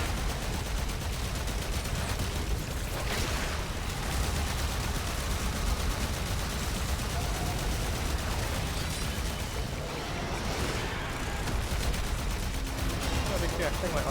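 Dense gunfire from the game Warframe, with rapid magazine-dumping shots and blasts forming a continuous loud barrage, and a voice talking over it.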